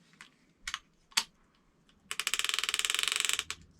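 A Lew's Laser XL baitcaster reel clicks as line pulls out, beginning with a few separate ticks and then running into a fast, even ratcheting burst that stops abruptly, all close and fairly quiet.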